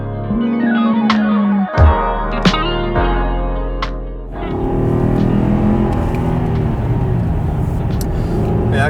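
A Cadillac CTS with a 310-horsepower engine and a fitted LPG conversion runs close by, its engine holding a steady drone, briefly dipping around a gear change, then rising into a broader rush of road and engine noise, with no talk.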